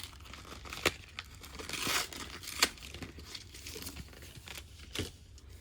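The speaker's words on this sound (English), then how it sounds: "There's just no easy way to open it. Just gotta rip it open." A Heroes of Exandria blind pack is ripped open by hand: close, quiet foil tearing and crinkling with a few sharper snaps spread across the moment.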